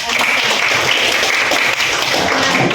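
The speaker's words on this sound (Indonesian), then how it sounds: "Kita berikan tepuk tangan untuk" Students in a classroom clap for a presentation, loud dense applause from a group of hands filling the room, steady throughout with no talk over it.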